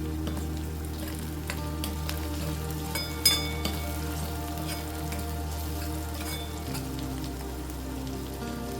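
Onion frying in oil for a dried-fish dish, a steady crackling sizzle with a low hum underneath and one brief clink, close and continuous without speech.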